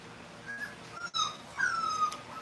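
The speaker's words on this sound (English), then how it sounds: "Just gave these pups a bath. So they kind of whining a little bit." Freshly bathed puppies whining, several thin high-pitched whimpers rising and falling close by over a low background hum.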